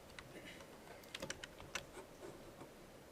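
Quick bursts of typing on a computer keyboard during a C++ programming lecture, soft clustered key clicks close by over a low room hum, with no talking.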